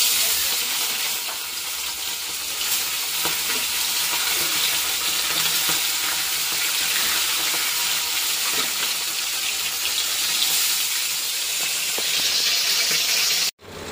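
Fish frying crisp in hot oil in a wok gives a steady, close, dense sizzle that runs unbroken for the whole stretch, with no voices, before it cuts off abruptly at the very end.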